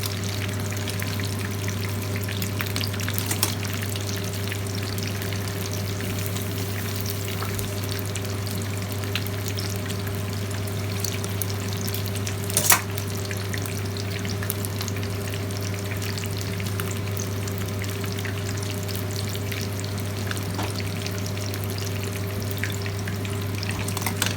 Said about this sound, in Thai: ตอนนี้เราทอดตรงนี้ให้มันได้รูปท รงซะก่อนนะคะ